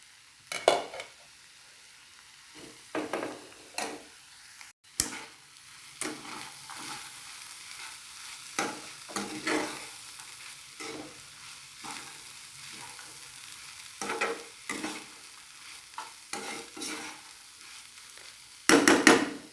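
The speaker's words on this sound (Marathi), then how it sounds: "आता आपण एकदा ही भाजी जी आहे ती हलवून घेऊया" Cabbage vegetable being stirred in a hot pan, with scraping spoon strokes and light sizzling in irregular bursts, close and fairly quiet, a louder clatter near the end.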